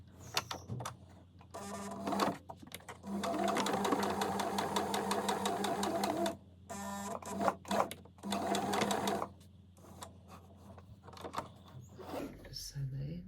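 A home sewing machine stitches a skirt in three stop-start runs of fast, close, even whirring, separated by short pauses, with faint handling noises between the runs.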